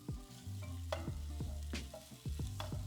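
Italian sausage frying in a pot with a steady sizzle while a utensil breaks it up, producing repeated scraping and clanking strokes throughout.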